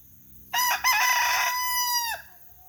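A backyard rooster crows once, close and loud: a long cock-a-doodle-doo lasting about a second and a half, with no talking over it.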